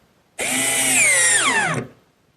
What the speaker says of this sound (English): where it would be real difficult to drive nails in the oak, I'm using screws, being sure to pre-drill some holes.